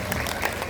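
Audience applause at an Islamic religious gathering with mass prayer and dhikr, a short steady burst of clapping filling the hall with no voices over it.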